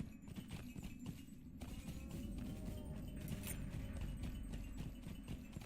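Hooves of a horse galloping in Lord of the Rings Online, a steady rapid clip-clop beat running continuously and fairly loud, with no voices over it.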